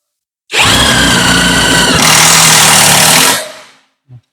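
A J-LD JV88-48V 20V cordless impact wrench set to speed 2 drives a bolt into thick material, a loud continuous whirring hammer burst lasting about three seconds before spinning down, followed by a brief click.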